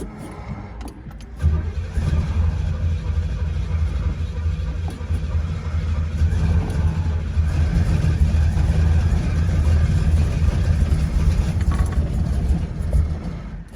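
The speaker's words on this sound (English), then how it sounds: "Sometimes starting this car feels like you're starting an old biplane." A Pontiac GTO cranks briefly, then its engine catches and settles into a loud, rumbling idle close by that keeps running steadily, without any talk over it.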